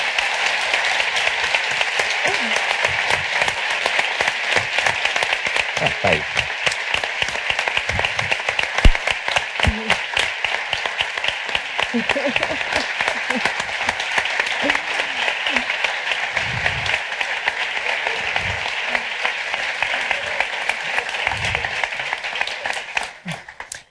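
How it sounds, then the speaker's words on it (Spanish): A large audience breaks into sustained, dense applause to welcome author Brandon Sanderson on stage at a Spanish fan event. The clapping stays loud and even for over twenty seconds, with scattered voices beneath, and tapers only at the very end. "Un aplauso."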